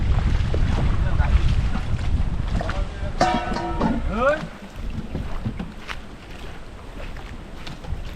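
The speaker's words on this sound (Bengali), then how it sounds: "হাওয়াও ছেড়েছে খুব" Strong wind rumbles and buffets throughout at a campsite in the Andaman Islands, with a voice calling out briefly partway through.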